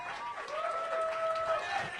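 Comedy club audience clapping and cheering in a brief, dense burst of applause, with a voice carrying over the crowd noise.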